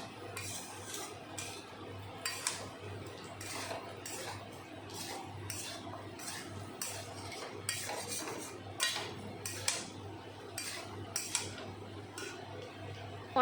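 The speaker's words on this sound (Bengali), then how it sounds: "এখন মশলার সাথে আর কচুর সাথে ভালো করে একটু সময় কষিয়ে নেব" Cut maan kochu (taro) being sautéed with spices in a pan, with a spatula clinking and scraping against the metal in a quick irregular rhythm over a low steady hum, close and alone with no talking.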